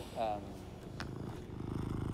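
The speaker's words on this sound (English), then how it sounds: "If you heard my cats purring or my dog snoring or playing with their toys in the background" Domestic cats purr in a low, rhythmic, faint rumble that runs steadily through the background, with a brief voice near the start.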